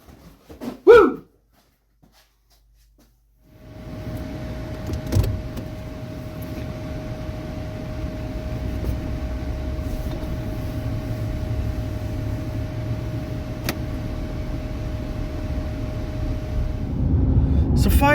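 A truck drives along the road, its steady engine and tire rumble rising after a brief opening whoop and holding level, with a constant tone over the drone and a few clicks and knocks.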